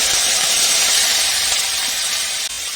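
Okra fries in hot oil in a karahi, a loud, steady hiss of sizzling oil filling the whole moment, with a faint knock near the end and no speech.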